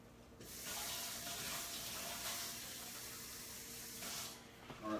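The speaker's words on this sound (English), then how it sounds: "I'm just gonna put cold water in here, right?" Cold water runs from a kitchen tap into a bowl, a steady close hiss of flowing water lasting several seconds before it shuts off.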